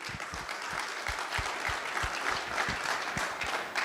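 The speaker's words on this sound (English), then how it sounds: "I want you guys to give yourself a massive round of applause for being here today." A conference audience claps in a steady round of applause, many hands together and fairly close, sustained evenly with a few louder individual claps standing out, no voices over it.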